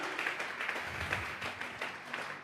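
A church congregation claps together during a Sunday service, a fairly quiet, dense patter of many hands continuing throughout with faint voices mixed in.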